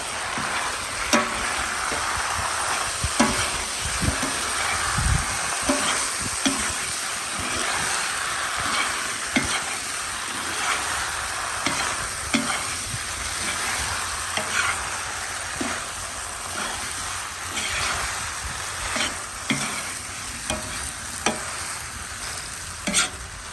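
Food sizzles steadily in a hot pan while a utensil stirs and scrapes it in repeated strokes, close by, with no talking, as goulash is cooked with pickled peppers.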